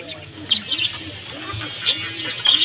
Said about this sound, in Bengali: আমার দিদিভাইয়ের হাঁস মুরগি, বাজিগার পাখি।